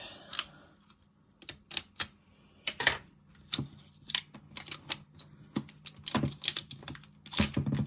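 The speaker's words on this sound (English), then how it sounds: "Go ahead and snip this real quick." Sharp snips and crinkling clicks come from cutting open the plastic packaging of a Deadpool & Wolverine Headpool popcorn bucket, an irregular run of quick close taps with no voice.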